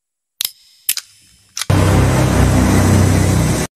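A pistol gunshot sound effect: a few sharp mechanical clicks, then one loud blast that bursts into a dense, sustained roar of noise filling the rest of the moment.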